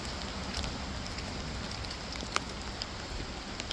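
Steady rain falls on a Nebraska farm with sheep and a donkey, a dense even hiss with a few sharper drips close by, and no talking.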